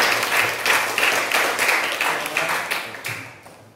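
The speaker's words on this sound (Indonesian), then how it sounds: "Tepuk tangan dulu untuk kelompok 1 biar" Classroom applause for a student group, a burst of many hands clapping in rhythmic waves at fairly close range, gradually fading toward the end.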